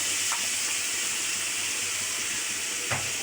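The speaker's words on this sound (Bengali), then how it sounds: "এই তো মশলাটা কিন্তু খুব ভালোভাবে কষিয়ে নিলাম, উপর দিয়ে তেল ছেড়ে দিয়েছে।" Spice paste frying in oil for a bitter gourd and hilsa fish curry, a steady close sizzle and hiss throughout with a couple of faint stirring scrapes.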